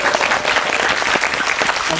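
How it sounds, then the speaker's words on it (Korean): Cinema audience at a Korean film Q&A applauding the director, a close, lively spread of clapping with sharp individual claps standing out through the whole stretch. "한준희 감독님에게 박수 한번."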